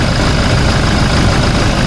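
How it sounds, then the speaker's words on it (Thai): A used four-door automatic lifted pickup sits idling, its engine giving a steady, even rumble close by with no revving and no talk over it. "ดูเอาเลยเครื่องยนต์เดินแบบนิ่งมากเพื่อน นิ่งๆเลยฟิตๆ เลย"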